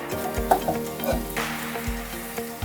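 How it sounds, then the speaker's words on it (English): Eggs scrambling in hot rapeseed or sunflower oil in a pan, a loud close sizzle broken by repeated spatula stirring strokes against the pan, with no talking. "Now I'm going to scramble the eggs for the brunchilladas"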